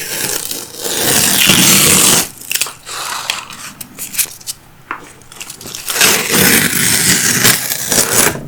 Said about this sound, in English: And I think we can remove the tapes.